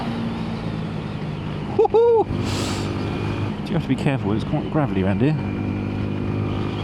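A 2026 Yamaha MT-125, a 125cc motorcycle, ridden on a gravelly road, its engine rising and falling in revving sweeps with a sharp throttle burst, heard close beneath a rider's excited talk.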